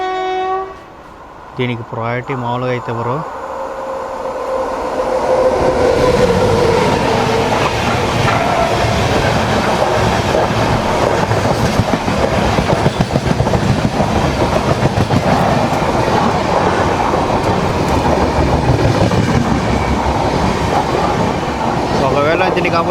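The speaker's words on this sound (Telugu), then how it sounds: "మన ఎదురుగా చూసుకుంటే విజయవాడ నుంచి లింగపల్లి వెళ్ళే ఇంటర్సిటీ సూపర్ ఫాస్ట్ ట్రైన్ అయితే వస్తుంది" Vijayawada–Lingampalli Intercity superfast train passing: a sharp horn blast sounds early, then the close, swelling roar and clatter of the passing coaches fills the rest, with someone speaking briefly at the start.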